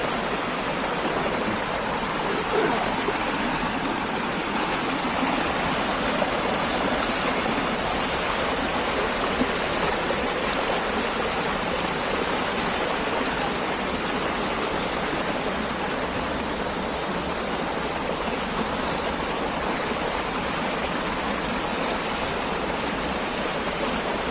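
Steady rushing water of a flowing stream, a dense continuous splash and hiss throughout with no voices.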